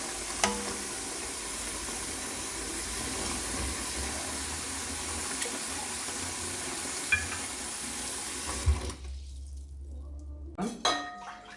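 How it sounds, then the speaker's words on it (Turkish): Sugar syrup for Arap kadayıfı heats in a pot, giving a steady broadband sizzling hiss with faint clinks, then cutting off abruptly near the end, followed by a few brief knocks. "Kaynamaya başlayacak"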